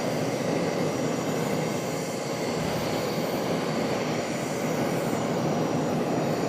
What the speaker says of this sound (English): We've got another arrival, this one coming in from Jacksonville, this one Piedmont Airlines, another ERJ